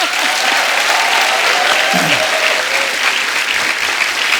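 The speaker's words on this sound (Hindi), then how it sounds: "पहले तो इसी बात पे तालियां बनती हैं।" A studio audience at a comedy talk show breaks into loud, sustained applause that fills the whole stretch, with a voice faintly under the clapping.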